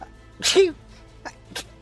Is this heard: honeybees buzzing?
no